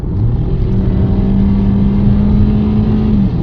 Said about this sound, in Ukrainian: А як гарчить двигун?